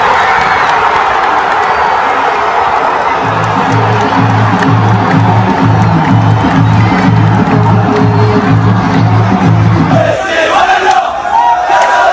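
A huge crowd of Saudi football fans celebrates a win over Argentina, cheering loudly and continuously, with a rhythmic chant that pulses steadily through the middle of the roar before breaking back into shouting.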